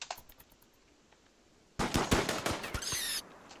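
Submachine gun fire in the colony-defense video game Rimworld: after a quiet stretch with a few faint clicks, a loud rapid burst of shots rattles out for about a second and a half, then stops.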